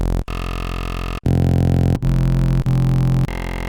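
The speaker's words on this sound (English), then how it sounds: "What you're hearing right now is just an init saw wave." An init saw wave from the Serum 2 synth, run through the Convolve convolution effect, buzzes loud and steady, with its timbre changing abruptly every second or so as impulse-response presets are switched.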